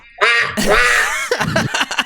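A human voice imitates a duck call whistle at a tabletop fantasy roleplaying session, giving long, loud, nasal honking quacks followed by a few shorter choppy bursts, all up close.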